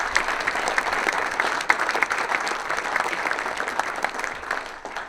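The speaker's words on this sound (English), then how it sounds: "let's give a round of applause for all of our rangatahi in the room" Steady, dense applause from a large audience at the Misty Flicks 2024 awards ceremony, honoring the young people in the room, sustained at an even loudness throughout without fading.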